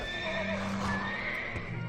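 A horse in World of Warcraft whinnies with a high, wavering neigh while hooves clop rhythmically beneath it, close and fairly loud.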